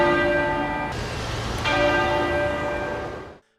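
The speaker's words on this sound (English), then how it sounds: "the bell in London will toll as an ongoing tradition." A church bell in London tolls as a mourning tradition, with a sustained ringing tone, a fresh strike partway through and another later, each decaying with a long shimmering hum before fading out near the end.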